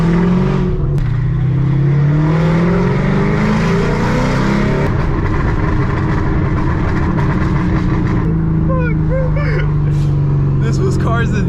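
A Ford Mustang GT engine revs steadily while being driven, a loud continuous roar with rising and falling pitch as it accelerates, heard from inside the car with occasional background noise.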